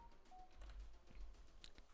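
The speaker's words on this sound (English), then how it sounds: "Sorry for that. That was my phone." A mobile phone gives off a short run of soft electronic tones and beeps, faint and close under a low background hum, with no talking.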